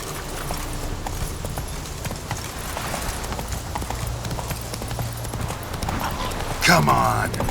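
Horse galloping in The Witcher 3 video game, with a rapid, steady clip-clop of hooves that continues throughout and ends in a brief louder burst near the end, and a voice speaking over it.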